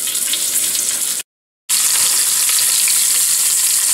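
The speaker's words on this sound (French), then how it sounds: "dans l'huile, je vais faire revenir mes côtes, je vais les saisir" Beef short ribs sear in hot oil in a pot, with a loud, dense, continuous sizzle close by that cuts out briefly and then resumes just as strong.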